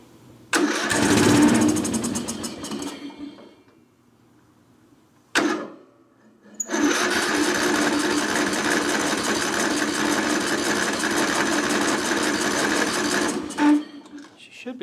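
Engine of a trashed Craftsman riding lawn mower cranking without starting, with a loud rapid churning burst, a quiet pause and a brief catch, then a long sustained cranking run that cuts off near the end. Close and loud.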